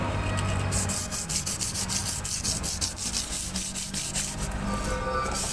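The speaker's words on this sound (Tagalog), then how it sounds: "Liha-liha para kuminis." Sandpaper rubs a brake drum in rhythmic back-and-forth sanding, a steady scratchy rubbing repeated many times in quick strokes, close and fairly loud.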